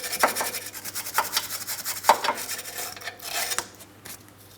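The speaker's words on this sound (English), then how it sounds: "I'm going to use a wire brush. Let's clean along the subframe mounting points first." Wire brush scrubbing the subframe mounting points of a 2003-2007 Cadillac CTS, a series of close, scratchy rubbing strokes in an uneven rhythm that fades out toward the end.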